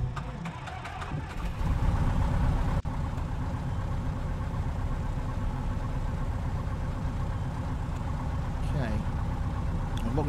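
A propeller aircraft engine starts up in a flight simulator game, settling into a continuous low, droning idle that runs steadily for about ten seconds, with a brief click near the start and a person talking over it.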